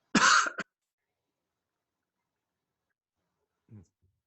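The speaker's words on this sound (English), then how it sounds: "That's the first cough." A single sharp cough close to the microphone, then quiet, with a faint brief throat sound a few seconds later.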